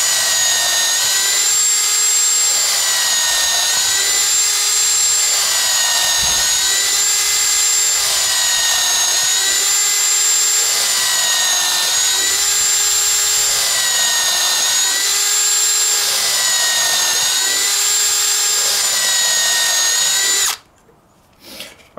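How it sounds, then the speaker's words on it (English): A Bauer 20 volt Hypermax drill-driver, set on its faster speed, bores eight holes in quick succession with a 1/4 inch bit, a loud, steady high-pitched motor whine that rises and dips rhythmically with each hole, close up, before stopping abruptly. "there's 8 holes quick with the Bauer 20 volt and a 1/4 inch bit"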